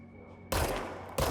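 Gunfire in the video game Control: a loud burst begins abruptly out of near silence, runs about two-thirds of a second, then a second burst follows.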